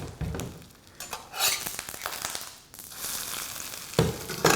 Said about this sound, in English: when I go into the pan, I want my butter brown and I want to press these pistachios in just like that